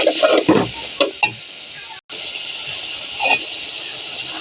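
Spice masala fries in a pan with a steady, close sizzle, broken by several sharp scraping strokes of stirring and a brief pause.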